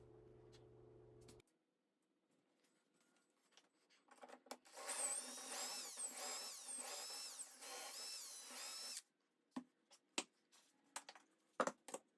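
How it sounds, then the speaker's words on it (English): A power drill whirs into wood for several seconds, boring a dowel hole 3 3/4 inches deep through a doweling jig, then stops, followed by a few sharp clicks and knocks. "And now I use my doweling jig to drill holes 3 3/4 inches deep"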